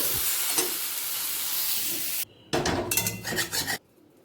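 Fried jackfruit and potatoes sizzling in a wok, then scraped and poured with a spatula into another pot, giving a steady frying hiss followed by a short burst of clattering metal scrapes and thumps, close up, no talking.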